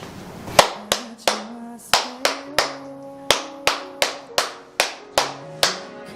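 A crowd claps in the Korean 3-3-7 cheer rhythm: bursts of sharp, close hand claps in grouped beats, loud and clear, with no talking over it.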